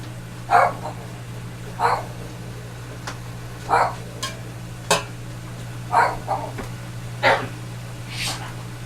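A puppy barks and yips in short separate bursts, about seven across the stretch, close by, over a steady low electrical hum in a kitchen.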